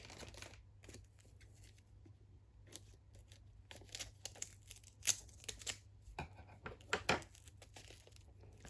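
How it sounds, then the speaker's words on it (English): Scissors snip and slice through packaging in irregular bursts, with crinkling and rustling between the cuts, close and fairly quiet. "Just get my scissors."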